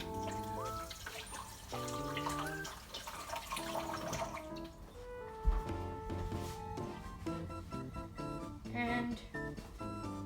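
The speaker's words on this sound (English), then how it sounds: "You want to wash your hands actually." A kitchen tap runs while hands are washed, a faint trickle of water under clattering, tonal household sounds and background music or voices, soft and fairly distant.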